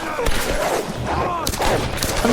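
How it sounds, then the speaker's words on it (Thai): Rapid bursts of gunfire crackle over a dense, noisy Tomb Raider game soundscape in a mountain temple level, with several sharp shots in quick succession. "อุ้ยเสียงปืนหน่อยเสียงปืน"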